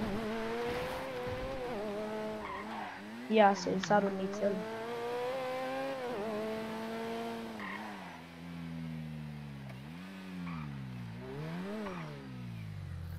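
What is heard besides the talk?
car driving in GTA 5 Online video game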